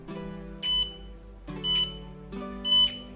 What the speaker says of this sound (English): When both baby and driver are detected, short beep is heard.